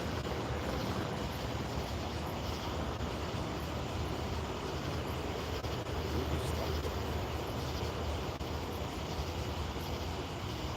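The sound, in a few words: train passing slowly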